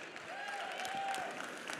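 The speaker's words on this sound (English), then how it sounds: "A round of applause for that." Gala audience applause, fairly quiet and distant, a steady spread of clapping with voices mixed in underneath.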